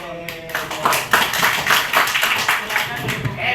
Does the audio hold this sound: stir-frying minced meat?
no